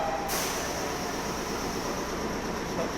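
A Japanese train departs a station in Nagoya, a steady, fairly quiet rolling rumble and hiss with a sharp burst at the start, heard alone without voices.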